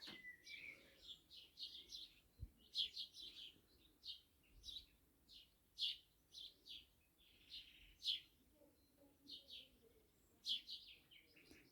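Several birds chirp and sing in quick repeated phrases in a village, fairly faint and distant, with a quiet outdoor background.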